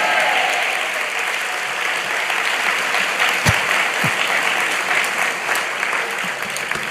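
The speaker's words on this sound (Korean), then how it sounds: "설교하다가 박수 받긴 처음인 것 같아요" A church congregation bursts into applause after a sermon, a steady wash of many hands clapping that fills the space evenly and loudly without a break.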